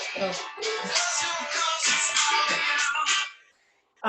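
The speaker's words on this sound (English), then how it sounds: "that's my ringtone, sorry." A phone ringtone playing a melodic song, bright tonal notes repeating in a steady rhythm for about three seconds before cutting off, fairly clear and close.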